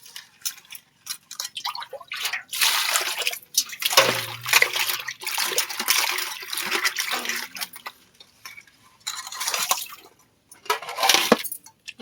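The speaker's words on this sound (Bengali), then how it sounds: "এবার ভালো করে ধুয়ে নেব।" Cut crabs being washed by hand in water, with irregular splashing, sloshing and the clatter of shells in a bowl, loud and close, arriving in bursts separated by short pauses.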